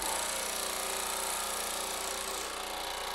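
A Baileigh PH-19 planishing hammer runs after being switched on, giving a loud, continuous rapid hammering rattle that stays steady throughout.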